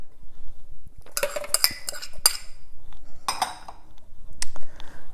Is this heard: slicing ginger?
yes